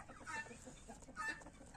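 Two short bursts of clucking from turkeys, close by, separated by a brief pause, over a low background hum.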